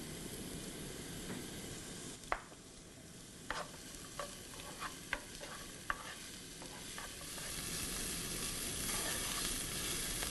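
Onion frying with salt in a pan makes a steady close hiss and sizzle, broken by a handful of sharp stirring clicks and scrapes in the middle, with no voices.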